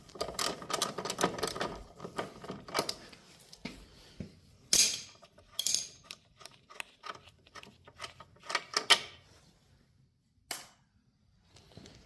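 A 10 mm six-point socket wrench works a bolt on a Smart car, giving bursts of rapid ratcheting clicks and sharp metallic taps that come in irregular spurts with pauses between, close and fairly quiet.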